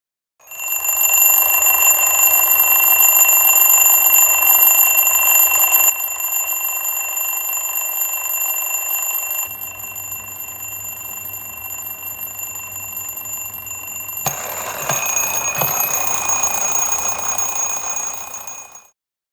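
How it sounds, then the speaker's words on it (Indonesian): An electronic alarm clock rings steadily and loudly, its bright tone holding for several seconds, then shifting pattern and continuing until it stops. "Setiap pagi dimulai dengan bunyi kesama, alarm."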